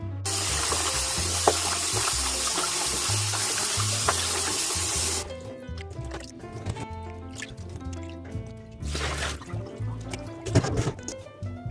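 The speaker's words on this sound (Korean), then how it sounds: "물에 한 두세 번 정도만 헹궈 주시고 물기 빼 주시면 됩니다." Salted napa cabbage rinsed in water for kimchi, with steady splashing and sloshing at first, then intermittent drips, rustling leaves and bursts of water as the cabbage is handled and drained.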